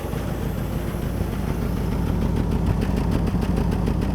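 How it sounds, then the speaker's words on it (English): An abandoned Ford Mustang Cobra, revived after 27 years parked, idles with a steady low rumble that grows slightly fuller partway through, close and continuous with no talking. "I just can't believe this thing's running right now. Idle must sound a lot better."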